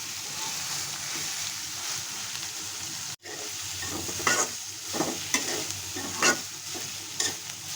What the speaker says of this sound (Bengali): মশলার সাথে কচুরলতিটা একটু ভাজা ভাজা করে নিচ্ছি।